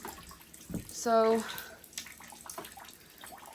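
Water from a leak drips and splashes into buckets on a homestead floor, a continuous wet patter with a brief louder splash, while a voice speaks briefly over it.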